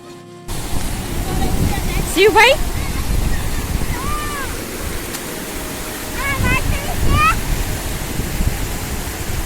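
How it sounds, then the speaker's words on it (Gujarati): Cool forest water from Gir spills down a natural waterfall on the Raval river, giving a continuous broad rush close by while voices call out and chatter over it. "ગીરમાંથી પાણી નીકળતું હોય આ તો જંગલનું પાણી કુદરતી પાણી જળ ધોધ"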